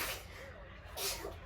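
A single quick sneeze bursts out near the start of a quiet indoor scene, a short breathy hiss followed by a little nasal noise, faint and close.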